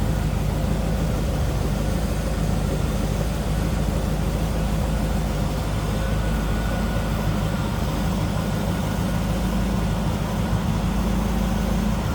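A 1994 Chevrolet Corvette coupe's 5.7-liter LT1 V8 idles with a steady, smooth low rumble, close and continuous with no variation in revs.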